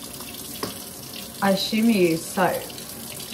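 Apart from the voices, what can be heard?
warm tap water running for cleaning a paint roller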